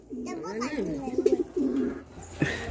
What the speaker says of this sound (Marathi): ए किती आहेत कबूतर?